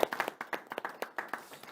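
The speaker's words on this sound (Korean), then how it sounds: "큰 박수 쳐드리죠." Brief clapping at a housing construction seminar, a few nearby hands producing distinct individual claps in a quick irregular rhythm.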